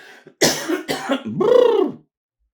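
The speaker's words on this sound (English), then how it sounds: "need to do something about this cough" A few harsh coughs burst out up close, followed by a longer throaty, strained sound, then silence.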